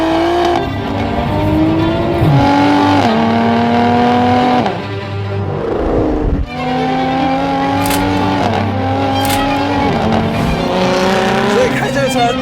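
A Lotus sports car with a Toyota-sourced engine roars through repeated acceleration runs, its pitch climbing under throttle and dropping at each gear change, loud and close, with a brief lift-off partway through.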